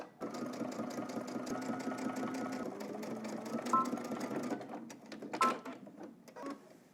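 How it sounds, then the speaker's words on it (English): A sewing machine stitches an edge stitch on a jeans pocket for baggy jeans, a steady mechanical whir for several seconds before it stops, followed by a few clicks and handling knocks. "Now let's do 2 rows of stitching. The first one is going to be an edge stitch."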